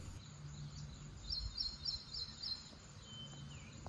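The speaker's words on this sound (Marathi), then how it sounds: "माझा आणि पक्ष्यांचा आवाज सोडून आपल्याला कुठलाच आवाज येत नसेल" Birds sing faintly along the footpath climbing to the Bedse caves, a few short, high chirps repeating midway through a quiet outdoor scene with soft background rustle.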